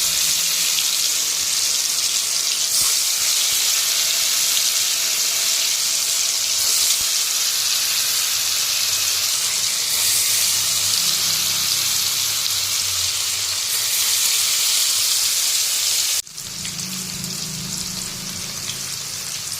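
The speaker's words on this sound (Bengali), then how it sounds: "এই দেখো এখন পনিরগুলো সব ভেজে নিচ্ছি" Paneer cubes fry in hot oil in a home kitchen, giving a steady, loud broadband sizzle that holds for the whole stretch and drops slightly near the end, with no voices over it.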